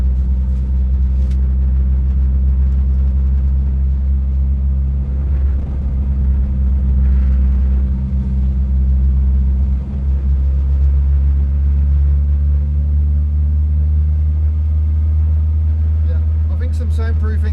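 Steady low engine rumble fills an old car's cabin while it drives in third gear, loud and droning throughout, with someone talking over it.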